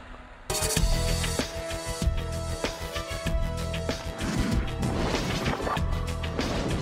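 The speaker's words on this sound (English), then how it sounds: "the Federal Aviation Administration placed plastic explosive in a luggage container made of glare" Plastic explosive detonating inside a luggage container made of Glare, a glass-reinforced aluminium laminate, in an aviation safety test: a sudden loud blast, then a chaotic run of crashing, smashing impacts and rumbling debris, with no talking.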